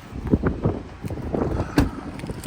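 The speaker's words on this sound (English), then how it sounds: "Man, it's windy." Steady wind buffeting a microphone outdoors, a rough low rumble with irregular gusts and bumps, no voices.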